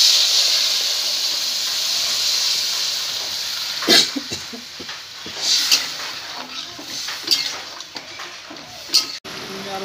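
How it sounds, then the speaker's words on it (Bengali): Water poured into a hot cooking pan while frying with potato and brinjal for a bele fish curry, a steady loud hiss and steam sizzle running throughout, with brief clinks and small bursts near the middle and end. "জল দিয়ে দিই, জল দিয়ে দিব।"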